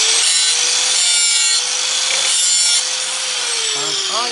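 A spinning sanding disc grinds along a steel axe blade during sharpening: a steady, loud, close abrasive hiss with brief dips and shifts in pitch as the disc passes back and forth along the edge, no talk.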